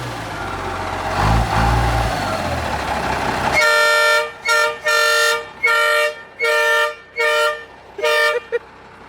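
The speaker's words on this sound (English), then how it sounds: "it opens up a valve and that shoves air through the horn, making it loud" A loud truck air horn blasts in a string of short, evenly spaced honks after a stretch of rumbling noise.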